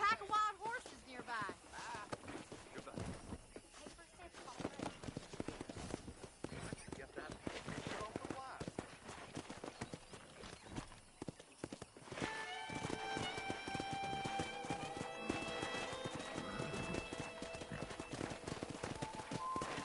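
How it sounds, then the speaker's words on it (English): Wild horse hooves clip-clop at a run in the video game Red Dead Redemption, with occasional whinnies, while people talk over it; a music-like tonal layer joins in the second half. "there's a pack of wild horses nearby"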